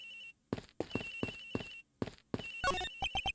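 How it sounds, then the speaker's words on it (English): A phone rings in the video game Ace Attorney Investigations, with a steady electronic ringtone tone repeating over rhythmic game sound effects and blips, ending in a few short stabbing beeps, heard without speech. "Agent Hicks's phone! It's ringing from somewhere, sir."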